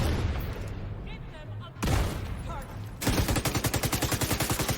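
A grenade blast and gunfire in The Division 2: a sudden explosion, a second boom, then a rapid, steady burst of automatic fire, heard mixed with game sounds and a voice talking.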